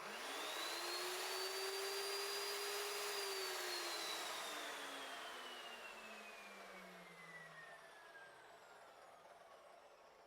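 An Evolution S355MCS miter chop saw motor spinning up loud and steady with a strong whine, holding for a few seconds, then winding down as the pitch falls and the sound fades over the rest of the span.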